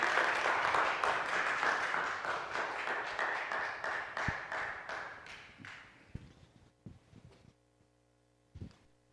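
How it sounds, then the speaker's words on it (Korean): A church congregation applauds to welcome a speaker: fairly close clapping, dense at first, then thinning out over several seconds into scattered claps and near-silence. "박수로 맞이해 주세요"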